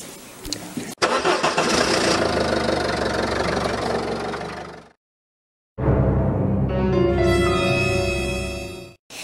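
A car engine cranks and catches, running loudly before cutting out, then restarts and revs with rising whine, the sound close and dominant throughout.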